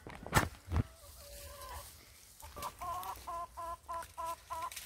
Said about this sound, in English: Look at that rooster there, born and bred here.